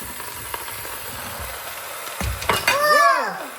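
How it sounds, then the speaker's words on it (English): Vegetables are dropped into an Instant Pot at home, producing a soft clatter and a brief thump near the end, while a voice chirps nearby and a low household hum runs beneath. "So now we're gonna add all our vegetables."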